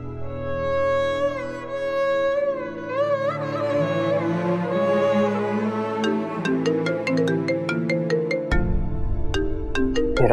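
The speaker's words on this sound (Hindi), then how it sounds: "ये रात को किसका फोन है?" A phone ringtone plays at night, a bright melodic tune with repeating notes that rings loud and steady, joined near the end by a deeper backing beat.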